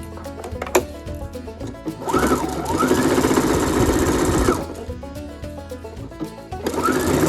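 A sewing machine stitches a fabric mask, with short rapid bursts of whirring needle strokes and a longer run in the middle, heard up close amid small handling clicks.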